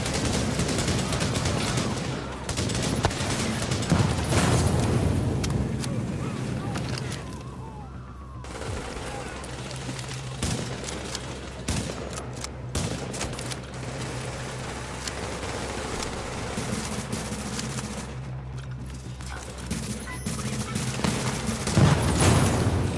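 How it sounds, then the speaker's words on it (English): Gunfire in The Division during a Last Stand match, dense repeated rifle shots and bursts with booming impacts spread throughout, mixed into busy game noise and ambience. "Sniper here. Been shooting at me the whole damn time."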